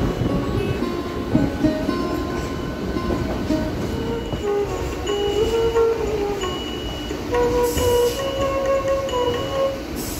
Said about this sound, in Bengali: দেখ, এদিক দিয়ে লোকাল ঢুকছে